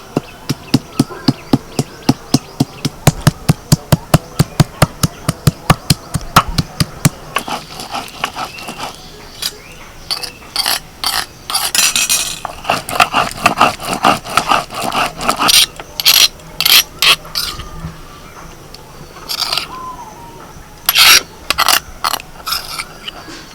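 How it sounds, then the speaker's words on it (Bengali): Ginger, garlic, onion, green chilli, curry leaves, whole cumin and peppercorns are ground together in a mixer, giving a fast rhythmic chopping pulse that gives way to uneven bursts of whirring and rough churning, close and fairly loud. "আদা রসুন পেঁয়াজ কাঁচা লঙ্কা কারি পাতা গোটা জিরে আর গোটা গোলমরিচ সব একসাথে বেটে নেবো"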